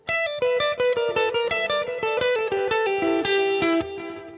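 A short electric guitar blues lick played alone, a quick run of distinct notes with slight distortion, close and clear, ending on a held note.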